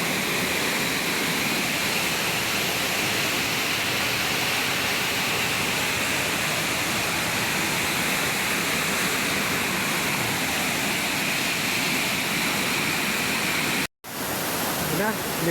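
Loud, steady roar of strong waves crashing, filling the whole stretch without pause, like heavy surf, cut briefly near the end.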